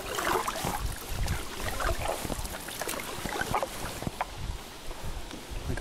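Strong wind of about 15 mph blows outdoors on a paddling outing, producing continuous loud roaring and buffeting gusts throughout, with no clear speech.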